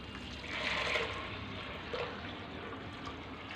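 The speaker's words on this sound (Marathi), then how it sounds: "त्यावर उकळीचं पाणी घालायचं आहे आपल्याला" Boiled water is poured from a vessel onto lentils in a pressure cooker, a soft, continuous splashing fill that swells briefly then settles into a quieter trickle, with no talk.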